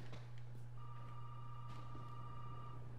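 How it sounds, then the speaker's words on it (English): A telephone rings inside the Resident Evil 7 horror game: a steady electronic ring that holds for about two seconds over a constant low mechanical hum. "The phone is fucking ringing now."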